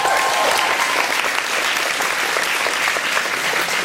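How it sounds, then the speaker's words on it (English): A convention crowd at Supanova in Perth applauding for Helen, a thick, sustained patter of many hands clapping at steady volume throughout. "Round of applause for Helen."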